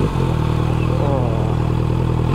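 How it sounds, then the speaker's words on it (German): A motorcycle exhaust rumbles close by, a deep throaty idle with a brief rising rev in the middle. "Hört euch den wunderschönen Auspuff an."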